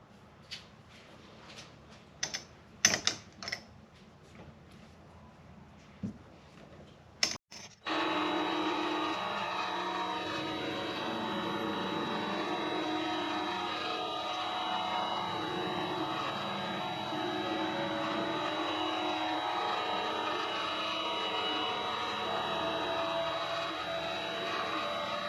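A metal lathe faces off an A36 steel billet, a steady close machining noise with a thin high whine that starts abruptly after a few scattered clicks and handling knocks, then runs on evenly without talk.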